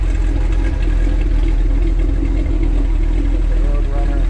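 A 1969 Plymouth Road Runner HEMI with a 4-speed idles steadily through its dual exhaust, giving a loud, continuous low rumble close by with no gaps and no voices.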